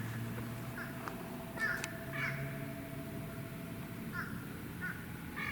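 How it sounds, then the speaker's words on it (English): Crows caw in the woods, several harsh calls scattered at a distance over faint background hum and rustle, quiet and sparse rather than continuous. "The crows are starting to be chattery."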